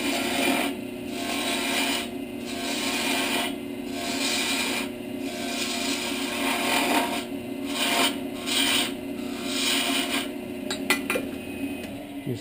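A gouge cuts a wooden birdhouse piece on a spinning lathe, throwing off shavings in a steady rasping scrape that swells and fades in regular passes, close and alone without talk.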